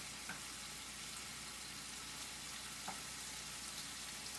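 Scallops sear in a hot pan, giving a steady soft sizzle and hiss that stays faint and even throughout, with no talk.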